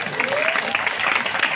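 Audience applause at a Balinese comedy performance during a calonarang temple event in Klungkung, a short burst of crowd clapping with a faint voice tone running underneath.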